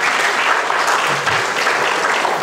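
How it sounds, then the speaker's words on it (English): Graduate students' association audience at a Ghanaian university event giving a round of applause, a loud, continuous, dense roar of clapping throughout. "I think he deserves another round of applause,"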